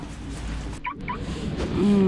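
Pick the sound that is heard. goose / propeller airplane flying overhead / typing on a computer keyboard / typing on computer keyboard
goose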